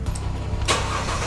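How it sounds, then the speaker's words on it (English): A Mercedes W204 car engine cranks and catches with a short broadband surge, settling into a steady idle rumble close by. "Now I'm going to start the car and indicate right and show you what it looks like"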